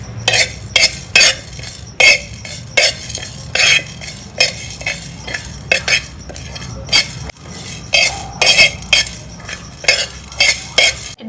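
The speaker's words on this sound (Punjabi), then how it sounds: "ਇਹਨਾਂ ਨੂੰ ਆਪਾਂ ਰੋਸਟ ਕਰ ਲਾਂਗੇ ਜੀ ਇਹਨਾਂ ਦੀ ਨਮੀ ਖਤਮ ਕਰ ਲਾਂਗੇ" A metal spoon scrapes and clinks against a pan while spices are dry-roasted for a ginger and green chilli pickle, with repeated close stirring strokes in an uneven rhythm and no voices.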